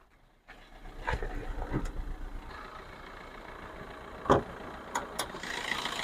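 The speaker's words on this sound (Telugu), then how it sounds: "ఇంజన్ చాలా సైలెంట్ ఉంది, ఎటువంటి లీకేజ్ కానీ, ఆయిల్ లీకేజ్ కానీ ఏం లేదండి, చాలా స్మూత్ ఉంది" A 2019 Maruti Swift Dzire taxi car idles quietly with a low, steady engine hum, broken by a few sharp clicks and knocks nearby.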